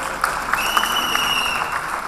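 Audience applause at a Hindi music program, a soft continuous patter of clapping that runs throughout at moderate volume with a thin sustained musical tone in the background.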